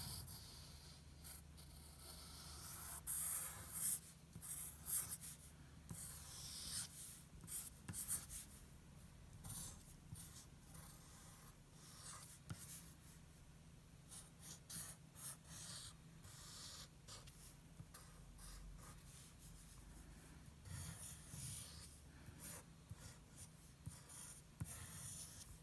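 A marker or pen scratches lettering onto a poster in short, uneven strokes, close and faint, with small pauses between words.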